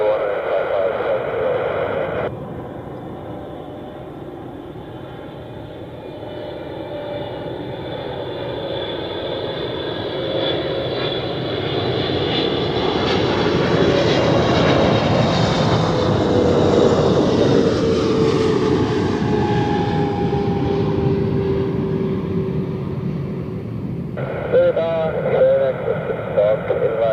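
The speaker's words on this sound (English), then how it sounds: "number 2 for landing now is the Edelweiss A340 from Punta Cana" Edelweiss Airbus A340 arriving at Zurich Airport, a broad jet roar that swells gradually to a peak and then fades as the aircraft passes, mixed with wind and crackling air traffic radio chatter at the start and end.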